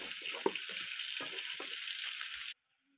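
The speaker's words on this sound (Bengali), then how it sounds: "এখানে আমার কিছু মাছ ভাজা হয়ে গেছে" Pieces of fish fry in hot oil in an Assam village kitchen, a steady close sizzle with a few soft clinks that stops abruptly near the end.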